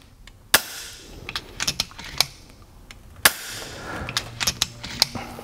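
FX Impact air rifle fired repeatedly from a high-pressure fill line while its velocity is being tuned: sharp, close pops spaced irregularly, interleaved with quieter clicks and mechanical handling noises, no speech.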